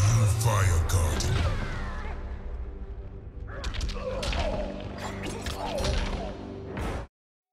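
The Shirai Ryu Fire Garden attack in the Mortal Kombat 11 fighting game bursts out in loud whooshes, crashes and thuds, with fiery rushes and impacts over several seconds and game voices mixed in, then cuts off abruptly.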